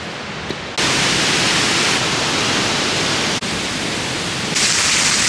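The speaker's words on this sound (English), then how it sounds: "The best waterfall I've seen so far." Waterfall on a road trip, a dense roaring rush of falling water that fills the whole clip, loud and steady with abrupt shifts in level as the perspective changes.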